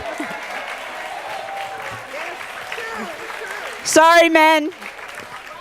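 An audience at a tenants' meeting claps steadily in a dense, even wash of applause; near the end a voice briefly cuts in over the clapping.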